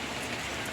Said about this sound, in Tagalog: Payong-payong lang mi kay malakas ang ulan.